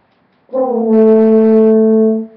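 A clean, steady brass horn tone played with wet lips holds for about two seconds, rich in harmonics and free of fuzz, starting abruptly and fading at the end.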